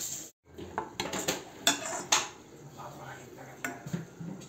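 Plates and cutlery clink and scrape close by while an eggplant dish with yogurt is served, with a series of irregular ceramic knocks and metallic taps.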